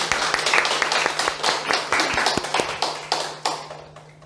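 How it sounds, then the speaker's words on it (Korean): A church congregation at Sunday worship applauds in welcome, the claps fairly distinct and rhythmic over a low room hum, then thinning out toward the end. "박수로 한번 환영하겠습니다"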